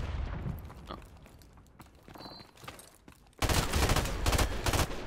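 Video game gunfire rattles in bursts, faint and scattered at first, then erupting into a loud, sustained fusillade of rapid shots.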